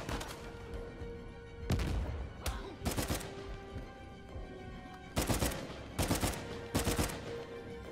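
Gunfire from the video game Uncharted 4 comes in loud, sharp bursts, some single shots and some rapid clusters, against a background of game ambience, with no talking.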